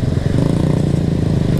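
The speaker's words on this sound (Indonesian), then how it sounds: "WSD5 pakai off racing exhaust khusus Stepway" A Kawasaki W175 SE motorcycle fitted with an off racing exhaust rumbles close by, its deep, dense low thump pulsing rapidly and steadily throughout.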